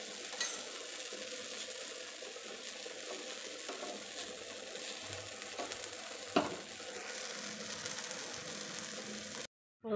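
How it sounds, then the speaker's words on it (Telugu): Ragi dosa fries with oil on a hot pan, a soft steady sizzle that stays fairly quiet, with a thump of the pan midway and a brief cutout near the end, no voices. "ఇలా ఆయిల్ కూడా పైన వేసేసి దోశ కాలిన తర్వాత"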